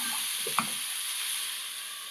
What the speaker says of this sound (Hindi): अब मैं इसमें डाल रही हूँ कटे हुए टमाटर। टमाटर डालने के बाद फिर से मैं एक दफ़ा टॉस कर रही हूँ